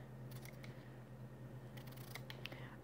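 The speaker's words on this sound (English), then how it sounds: "for cutting a cucumber, it does a good job" A Clever Cutter 2-in-1 scissor-style knife slices a cucumber in a few quick, faint snips, with brief clustered cutting sounds near the start and end over a steady low hum.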